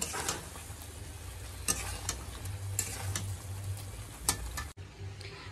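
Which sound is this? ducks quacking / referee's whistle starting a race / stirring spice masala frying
stirring spice masala frying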